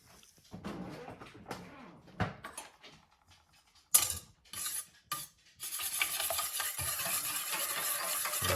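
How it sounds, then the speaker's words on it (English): An egg is whisked for keto cinnamon chaffles, with a few scattered clinks against the bowl at first, then a steady, close scraping rush of beating that runs to the end. "And then she's gonna whisk that up."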